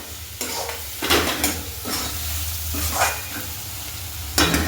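Chickpea gravy fries and sizzles in oil in a pan, a steady close hiss broken by several stirring scrapes and clinks of a spoon against the pan.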